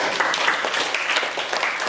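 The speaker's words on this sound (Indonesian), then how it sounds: "Kasih tepuk tangannya." A classroom of students applauds together, a dense, even wash of clapping that lasts throughout, close and fairly loud with barely any voice.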